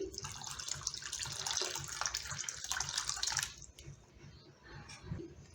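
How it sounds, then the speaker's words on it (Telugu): Water pours steadily into a bowl of rava batter for a few seconds, then stops, leaving faint dripping and quiet handling sounds. "మనకి రవ్వట్టు కన్సిస్టెన్సీ వచ్చేలాగా మనం వాటర్ యాడ్ చేసుకోవాలి"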